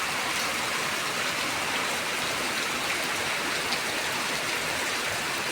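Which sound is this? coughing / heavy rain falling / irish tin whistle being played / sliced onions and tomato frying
heavy rain falling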